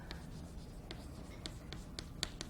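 Writing on a board during a linear programming lecture: a few short, scratchy strokes spaced unevenly, fairly close, with no talk.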